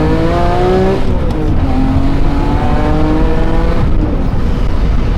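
A supercharged BMW E46 M3 track car revs hard, its engine note climbing in repeated pulls with brief shift dips, loud and close with no talking.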